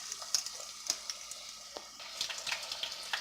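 Fish fries in hot grease with a crackling sizzle and scattered sharp pops, plus occasional stirring and scraping sounds, close and fairly quiet.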